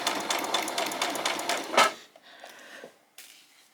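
A sewing machine back stitching and running along the seam of a doll's skirt, a rapid close mechanical chatter that runs for about two seconds, then stops, followed by a few faint short bursts.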